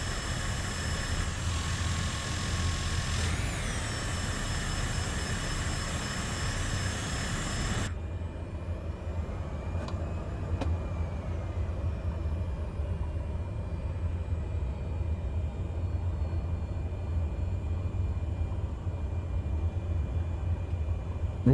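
A simulated airliner taxiing toward the runway in Microsoft Flight Simulator 2020 produces a steady, continuous jet engine drone with broadband rumble and hiss that holds even throughout, with no talking over it.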